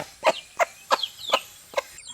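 A hen calls her chicks with a short series of five sharp, evenly spaced clucks, close and clear against a quiet background.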